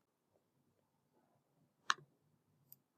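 Computer mouse clicks while signing up for a free Microsoft Fabric account, two quiet sharp clicks close together over a faint background hum.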